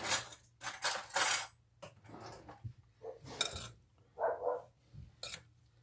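Strawberries and sugar are stirred in a bowl, with bursts of clattering and scraping at the start, then softer, intermittent knocks and rustles.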